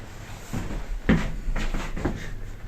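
A swing door on an old lift in an older building in Brighton opens and shuts with a few soft knocks and a firmer thud near the middle, close by and moderately loud over a low room hum.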